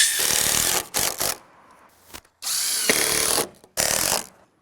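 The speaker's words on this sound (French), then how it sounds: "On va visser la panne sur le poteau." A power drill driving screws to fix a timber purlin onto a post while assembling a garden pool house, in several loud whirring bursts separated by short pauses, close up with no talk.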